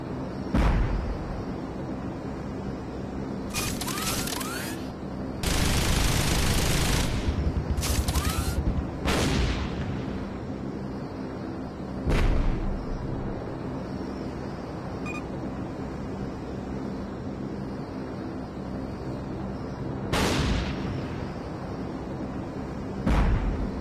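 A gunship in a zombie video game pours out gunfire with sharp explosion bursts at irregular intervals over a steady engine drone, loud and close, and no talk is heard.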